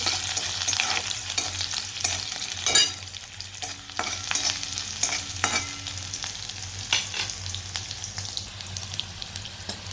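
Cumin seeds sizzling in hot oil in a kadhai during stir-frying, a continuous bright crackle with scraping spoon strokes and a few louder clinks, no voices.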